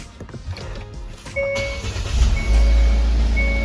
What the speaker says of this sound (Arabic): دورنا العربيه